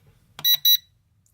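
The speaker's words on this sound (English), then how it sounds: "Now we had 2 beeps, that's the second speed." Two short, bright electronic beeps in quick succession from a BoldClash BWhoop B03 micro drone controller, signaling second speed, clear and close against near silence.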